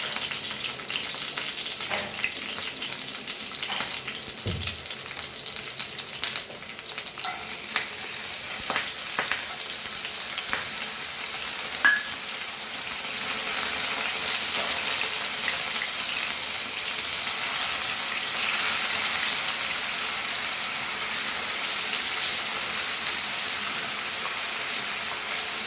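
Soaked chana dal and green chilies frying in coconut oil over a low flame, a continuous soft sizzle with occasional stirring scrapes and small pops, growing slightly fuller partway through.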